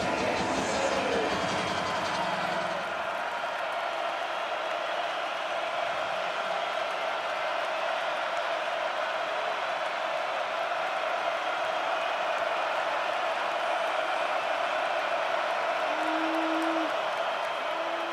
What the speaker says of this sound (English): there's that crowd again trying to get the offense out of rhythm